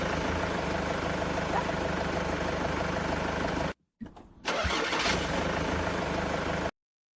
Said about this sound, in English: That's the sound of the bus starting up.